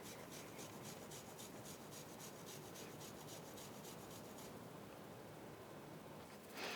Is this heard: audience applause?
no